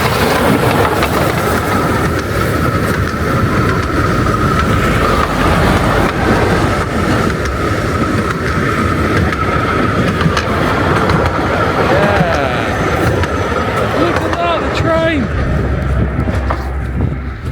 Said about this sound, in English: Check it out, here comes the train.